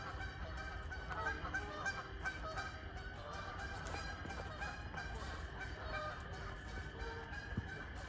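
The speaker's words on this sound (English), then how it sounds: "geese stirred up." A flock of stirred-up geese honking at night in the Tyler Flats woods, repeated overlapping honks at a moderate distance over a steady low background hum.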